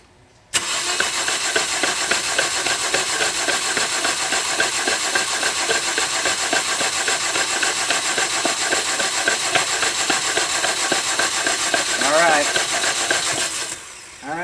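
Starter motor cranking a 2009 Toyota Corolla engine with low compression, a steady loud whirring drone held for about thirteen seconds before cutting off, with a brief voice near the end.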